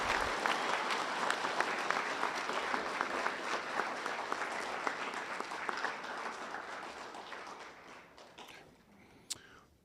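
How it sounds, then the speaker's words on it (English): Sustained applause from a school audience honoring veterans at a middle school Veterans Day celebration, a broad wash of clapping that slowly fades toward the end, with a few sharp claps lingering. "If we can please share one more round of applause for all of our veterans."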